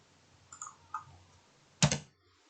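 A few quiet computer keyboard taps followed by a sharper double click of keys pressed together for a paste shortcut, close and isolated in a quiet room.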